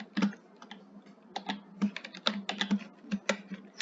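Computer keyboard typing as C++ code is written, quick irregular bursts of close, crisp key clicks separated by short pauses, with no talking.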